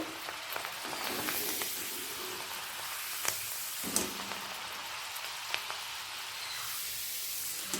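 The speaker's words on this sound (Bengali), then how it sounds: "ছাঁকনিটা তেলের মধ্যে রেখে ওপর থেকে অল্প করে দিয়ে ভেজে নেব" Mung dal fries in hot oil through a strainer, giving a soft, steady crackling sizzle with occasional sharper pops and clinks.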